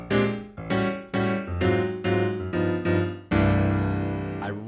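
Jazz piano-style chords moving through a reharmonized 3-6-2-5 progression with tritone substitutions, seven rich sustained chords struck one after another, the last held longest, close and clear.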